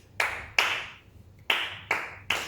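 Five sharp hand claps in an uneven beat pattern, two close together, a pause, then three more, each crisp and bright with a quick decay, for a simple kartal rhythm practiced in a kirtan lesson.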